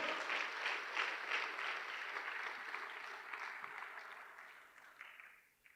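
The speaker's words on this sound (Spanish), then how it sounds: "Dele fuerte las palmas al Señor" Church congregation applauding during a service, a steady wash of clapping from many hands, fairly quiet and distant, gradually fading away toward the end.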